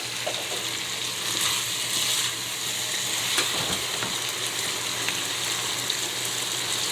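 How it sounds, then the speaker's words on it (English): Tomato frying in oil as it cooks down toward a thick sauce, a steady close sizzle with soft crackles and bubbling throughout, with no talking. "So you're just gonna fry it until that tomato comes down into a thick,"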